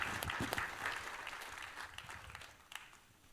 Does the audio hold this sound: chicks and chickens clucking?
no